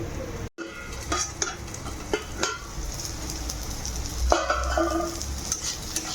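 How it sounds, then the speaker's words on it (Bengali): Bitter gourd and potato pieces frying in a pan with turmeric, a continuous sizzle punctuated by repeated clinks and scrapes of a spatula stirring, steady and close, with a brief dropout near the start. "5 মিনিটের মতো ভেজে নেব।"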